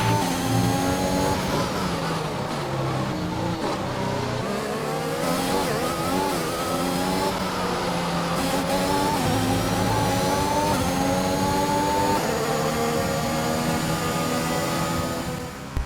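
A Formula 1 car engine in the racing game F1 2021, a loud, continuous high-pitched whine that climbs and drops with gear changes and throttle through the lap, with a faint tire squeal, no voices.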